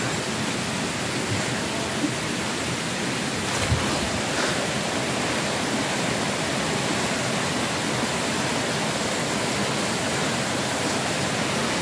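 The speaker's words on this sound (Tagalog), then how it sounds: "nandito na ako sa sapa" A creek flows steadily outdoors, a broad, unbroken rush of water that stays loud and even throughout, with no voices and only a faint knock partway in.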